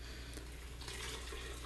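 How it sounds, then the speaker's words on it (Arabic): Boiling water is poured into a pot over browning, spiced meat, making a faint, continuous splashing pour that grows a little brighter partway through, with no speech. "نضيف ماء مغلي"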